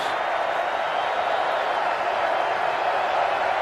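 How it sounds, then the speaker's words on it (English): College football stadium crowd during a game, a steady broad roar that swells slightly and holds at a distant, even level. "Crowd getting into it a little bit now too"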